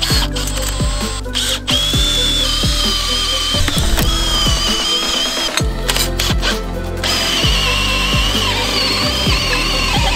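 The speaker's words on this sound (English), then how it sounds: "drilling a 30 mil hole here, one on the dead man, put the rod through" A power drill bores a 30 mm hole through a retaining wall in repeated rhythmic bursts, a rough mechanical whine with a regular ratcheting pulse, loud and close throughout.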